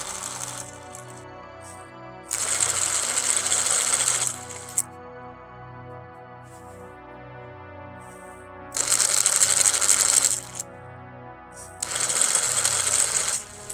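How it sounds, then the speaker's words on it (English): Cheap winch motor driven by a servo switch, whirring in bursts as it rotates one way then the other, a buzzy mechanical drone with sharp starts and stops and quieter humming gaps between runs. "making the motor rotate backwards and forwards"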